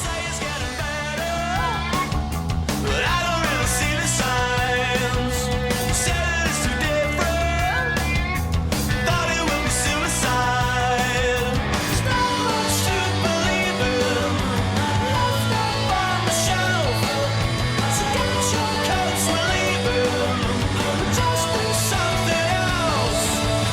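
A song played from a CD, a full rock band with steady drums, bass, guitars and vocals running loud and continuous throughout, no talk over it.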